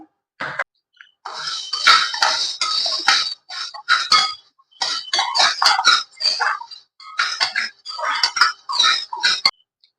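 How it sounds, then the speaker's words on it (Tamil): Half a cup of sago pearls dry-roasting in a pressure cooker pop and crackle in rapid, close, bright bursts, with brief pauses between clusters and no talk. "ஜவ்வரிசி இப்போ பொறிஞ்சு வருது"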